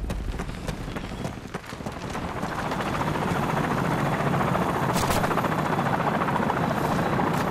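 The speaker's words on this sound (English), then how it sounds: "Helicopter incoming." A helicopter's rotor thumps building and growing louder as it approaches, a steady chopping drone with scattered game effects.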